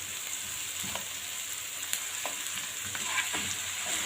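Onions, peppers and spices are sautéed in a pan, giving a steady, fairly quiet sizzle with occasional soft stirring clicks and scrapes, and no talk.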